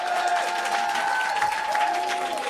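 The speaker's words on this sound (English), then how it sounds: "A round of applause for him." Steady applause from a crowd, dense clapping filling the whole stretch at a fairly even level, with a sustained tone running underneath.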